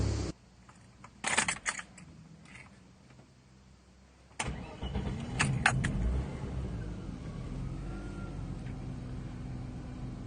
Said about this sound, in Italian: Bobina montata, andiamo a farle l'avviamento.